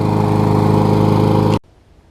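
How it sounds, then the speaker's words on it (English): A Bolens lawn mower engine runs loud and steady at close range, its even droning hum holding for about a second and a half before cutting off abruptly into near silence. "Hopefully have a good mower here after I let it run for a little bit."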